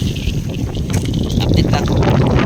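Choppy water splashes and sloshes close by, with gusty wind buffeting the microphone throughout the short stretch.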